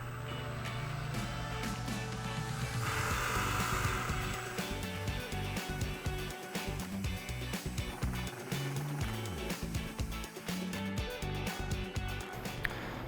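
A power drill whirs as it spins a mixer through epoxy in a bucket, its motor pitch rising and shifting, with scraping and sloshing as the mix turns.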